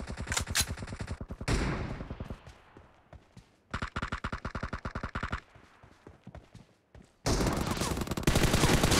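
Automatic gunfire from M416 and M762 rifles in PUBG Mobile Domination mode, rapid loud bursts broken by short pauses, with a final sustained roar of fire.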